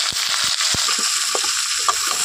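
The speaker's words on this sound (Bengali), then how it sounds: "এখন এই সবগুলো খুব ভালো করে তেলের মধ্যে ভেজে নিতে হবে" Okra frying in hot oil with salt and turmeric for bhindi masala, a loud continuous sizzle broken by several thumps and scrapes of a spoon stirring the pan.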